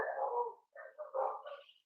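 A small dog barks and whimpers faintly indoors, a few short yips and one drawn-out whine in a quiet room.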